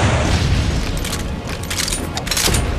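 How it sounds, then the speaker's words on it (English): Rocket launcher blast in the 2013 Shadow Warrior game, a loud, sustained explosive rumble with crackling debris and mechanical clatter, close and dense throughout. "Okay, there's my rocket."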